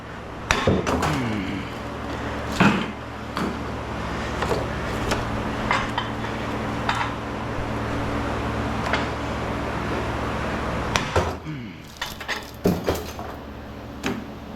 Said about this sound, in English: I threw some copper in there.